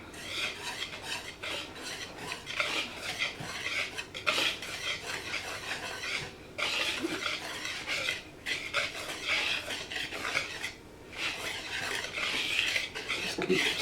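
A dry seafood breading mix for deep fried oysters and shrimp gets stirred in a bowl, a continuous gritty rasping and rubbing in uneven strokes with a few brief pauses and no talking.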